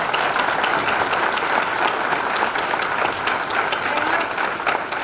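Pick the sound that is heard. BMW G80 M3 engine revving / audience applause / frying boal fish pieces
audience applause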